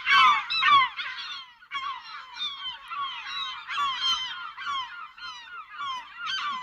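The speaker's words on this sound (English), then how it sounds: "it sounds like seagulls" Harsh, repeated seagull calls overlap in a steady stream, loud and close, with no talking.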